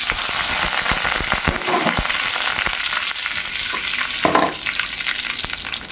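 Urad dal tempering in hot oil for a chow chow kootu, a loud, dense, continuous sizzle and crackle up close from start to finish, with no talking.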